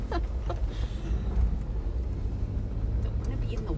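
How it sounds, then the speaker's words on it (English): A vehicle approaching on a rural road during peach processing, heard as a steady low rumble that holds throughout, with faint scattered background noises around it. "There's a vehicle coming."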